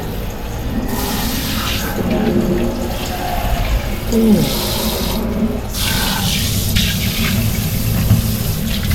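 Water runs steadily from a faucet fitted with a twistable, bendable filter attachment, a continuous splashing hiss that lasts throughout with no talk.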